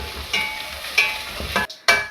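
Ginger frying in oil with mustard seeds and curry leaves, a quiet crackling sizzle broken by a few sharp stirring knocks and a brief pause near the end.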